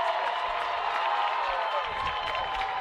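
Anderson fans roar at a college baseball conference playoff game against Rose-Hulman, a dense, sustained crowd cheer filling the whole moment with whoops on top and no clear break.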